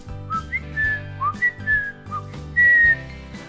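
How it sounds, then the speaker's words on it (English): A person whistles a short, bright tune of quick rising and falling notes, ending on one longer loud held note, playing over a steady background musical accompaniment. "It allows me to whistle."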